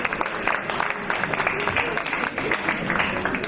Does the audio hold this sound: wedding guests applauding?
yes